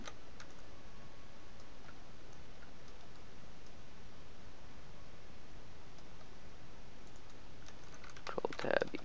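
Keyboard shortcut keystrokes tap faintly and sparsely on a computer keyboard under a steady background hiss during 3D UV-mapping work, with a brief voice near the end.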